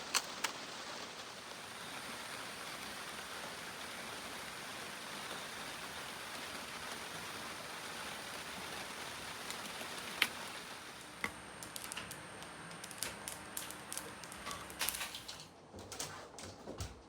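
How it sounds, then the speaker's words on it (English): Rain begins coming down on an autumn night in Japan, a steady soft hiss of falling drops with scattered ticking taps on surfaces growing more frequent toward the end. "the rain is starting to come down."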